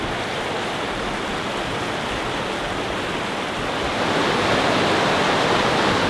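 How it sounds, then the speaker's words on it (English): Steady, full roar of Virgin Falls, a waterfall in Tennessee, pouring over a rock ledge into a cave, a continuous rushing wash that swells slightly louder toward the end, with no voices. "all that water for Virgin Falls that goes over right here disappears once it goes"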